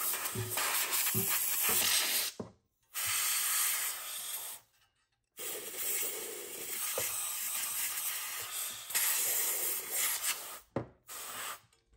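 An air duster sprays in several loud hissing bursts into the cramped inside of a thrift-store 2500-watt amplifier, with short silent gaps between blasts and some rattling of parts.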